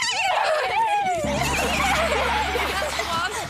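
A voice imitates a horse's neigh in a long, wavering, rising and falling whinny, close and loud, over a steady low hum of background noise.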